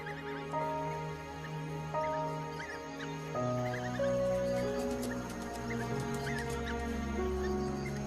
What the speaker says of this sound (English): The pups make distinct chirping sounds